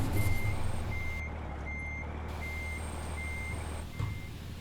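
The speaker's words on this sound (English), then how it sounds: "Still getting the hang of parking trailers in reverse." Steady electronic reversing beeps pulse at an even rhythm from a truck backing a trailer in American Truck Simulator, over a constant low diesel engine rumble, with no talking.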